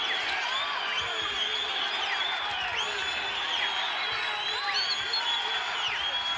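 Basketball arena crowd at a UTEP home game against Western Kentucky, roaring and cheering steadily through a comeback run, with whistles and whoops rising above a dense, sustained wall of fan noise.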